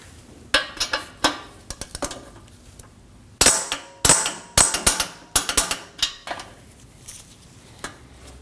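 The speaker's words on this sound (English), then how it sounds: "we can torque these to 37 foot-pounds" A torque wrench tightens starter bolts on a 2015-2022 Chevrolet Colorado 3.6L V6, producing a series of sharp metallic clicks and clanks in irregular clusters, close and fairly loud against a quiet garage background.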